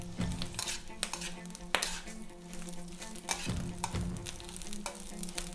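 Brussels sprout leaves and cornbread dressing sizzle steadily in a hot electric wok, with repeated scraping and clinking from a utensil stirring against the pan, close and fairly quiet.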